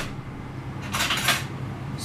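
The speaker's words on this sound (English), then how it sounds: "So there's my teaspoon." A teaspoon clinks against a small bowl in a home kitchen while baking, one quick cluster of light metallic taps near the middle of a short, otherwise quiet moment.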